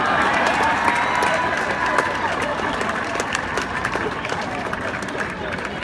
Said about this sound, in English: And I give another round of applause for Draymond Green.